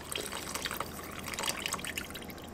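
Chicken broth pours from a carton over potatoes in a Ninja Speedi pot for zuppa toscana, a steady close liquid splashing and trickling with no voices.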